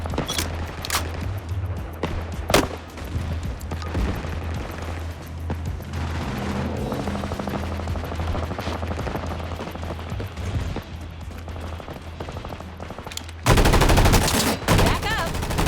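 Dense, sustained automatic gunfire from an FPS match in Combat Champions, rapid bursts rattling continuously for most of the stretch before a sudden louder, harsher blast of noise near the end.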